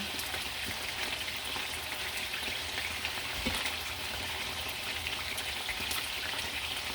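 Beef pieces brown in a pan for stroganoff, giving a steady, even sizzle and crackle throughout, close and unbroken, with no talking.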